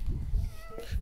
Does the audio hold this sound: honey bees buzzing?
no